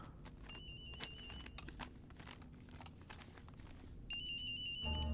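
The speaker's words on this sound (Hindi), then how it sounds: "ये किसका फोन है?" A mobile phone ringtone trills in two electronic bursts about three seconds apart. The ringing comes loud and close, with quieter rustling and movement between the bursts.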